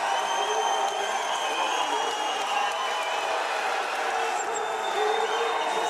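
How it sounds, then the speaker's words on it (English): A packed MMA arena crowd roars steadily, a dense continuous wall of cheering and whooping with no breaks, loud and enveloping. "listen to this crowd roar"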